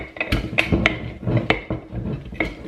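Irregular thumps and clinks of sauerkraut cabbage being pressed down into a glass jar, close up, a handful of sharp knocks over a muffled scraping.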